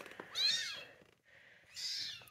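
Two drawn-out meows from a mother cat, fairly close, with a short pause between them and no talk over them.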